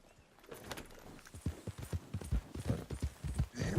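A horse's hooves clip-clop at a steady walking pace in the game Red Dead Redemption 2, quiet and fairly close, a regular series of soft thuds without speech.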